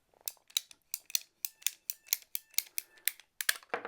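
A Husky ratcheting PVC cutter biting through 1-1/4 inch plastic pipe in a quick series of sharp, close ratchet clicks and crunches, evenly spaced and sounding alone with no voices.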